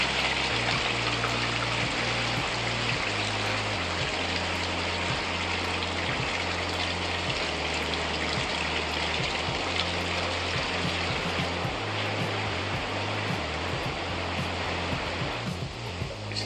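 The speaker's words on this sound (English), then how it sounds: "Now, with the jets engaged, you'll notice that the fountains pop themselves on." A hot tub with its jets running and its built-in water fountains switched on gives a steady, loud rush and splash of churning water. Low pump rumble and occasional knocks sit underneath throughout.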